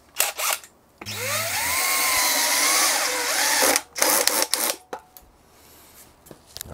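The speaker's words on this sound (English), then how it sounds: "Let's get these screws installed." A power drill drives screws into the cavity cover of a scratch-built electric guitar, whirring steadily for about three seconds in one sustained run, followed by a few short clicks and handling knocks.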